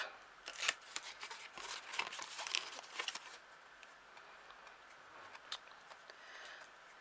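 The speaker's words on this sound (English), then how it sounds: "So take the tape backing off," Tape backing being peeled off a paper pocket for a handmade mini album gives quiet, crackly, papery rustles in quick bursts over the first few seconds, then fades to a few faint scattered ticks.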